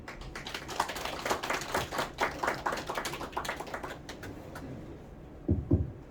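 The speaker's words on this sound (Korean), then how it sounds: "정병식 강사님을 큰 박수로 환영해 주시기 바랍니다" An audience gives a lecturer a welcoming round of applause at a community welfare center talk, a scattered, fairly quiet patter of claps that thins out, with a couple of louder thumps near the end.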